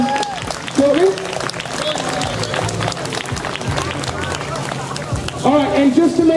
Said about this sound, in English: round applause for all of those children